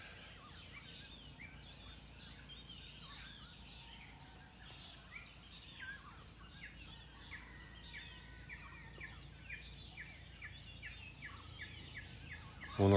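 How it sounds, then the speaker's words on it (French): Many birds chirp and trill throughout, several songs overlapping at a moderate distance over a steady insect hum, with no voices. "Les oiseaux commencent à chanter."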